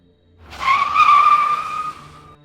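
A car speeds away in a horror story, tires skidding with a loud, sustained squeal that rises quickly, holds for over a second, then fades as the vehicle pulls off, alone without voices.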